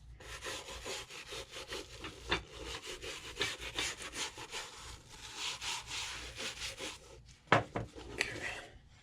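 Nylon brush scrubbing the sole of an Allen Edmonds Carlyle shoe with new JR leather sole, rapid back-and-forth rasping strokes, close and continuous with a couple of sharper knocks near the end, no voices.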